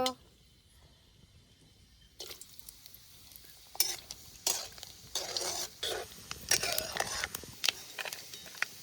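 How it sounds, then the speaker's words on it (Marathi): Green chilies frying in hot oil in a pan for a rustic spicy chili dish: a steady sizzle fills the pan as a few stirring scrapes and clinks break through, alone without talk. "कळी गरम झाली तेल टाकतो आता तळून घेतो"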